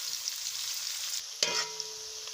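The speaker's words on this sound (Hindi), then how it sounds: "इसको अच्छे से फ्राई कर लेंगे।" Onions fry in a pan as a base for mutton palak, a steady close sizzle with a brief clink of a utensil partway through.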